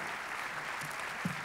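An audience applauding at a ceremony with flowers presented, a steady wash of clapping heard at a distance with a few muffled sounds near the end.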